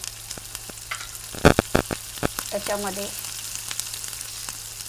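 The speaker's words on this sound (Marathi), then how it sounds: "हे सर्व मसाले आपण मंद आचेवर छानपैकी खरपूस भाजून घेणार आहोत" Whole spices dry-roasting in a hot wok over low heat for homemade tea masala, with scattered sharp crackles and scraping stirs, loudest midway, under a steady background hum and one brief spoken word.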